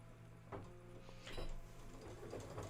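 A Kimberbell embroidery machine stitches out music notes nearby, giving faint, quick rhythmic ticking and whirring in the background, with no talking.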